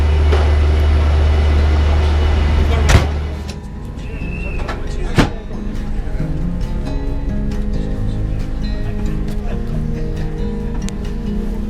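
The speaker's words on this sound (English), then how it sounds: "train's arrived, so I'm getting on" A train with old-style coaches rumbles and idles at a station, a low steady drone with a couple of sharp clanks and door thuds partway through.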